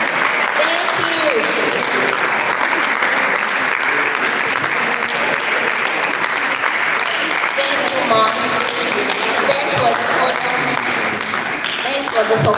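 Loud, steady applause from a large audience at a college food week ceremony carries on without a break. Scattered cheers and voices sit inside the dense clapping.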